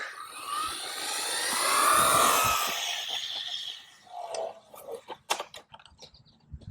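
A Hyper Go H14BM RC car on a 2S LiPo speeds past, its high electric whine swelling as it nears and fading away, followed by scattered clicks and knocks.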